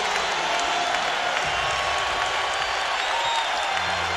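A basketball arena crowd applauds and cheers, a dense, steady wash of clapping from a large audience at a Lakers vs Bucks game, with no clear talk on top.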